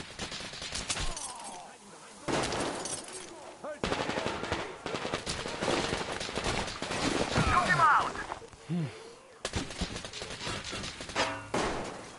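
Bursts of automatic gunfire and scattered shots crackle through a first-person firefight in the video game Metro Exodus, loud and close, with short pauses between volleys and shouted voices mixed in.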